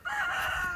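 Chicken crowing inside a coop made from a converted play barn, a single short, close, loud call lasting under a second.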